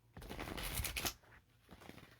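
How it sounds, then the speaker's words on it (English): Playing cards are riffled and shuffled in a quick, short burst of fluttering slaps, with a softer second riffle after it, faint and close. "That's why you don't know how to shuffle cards real good."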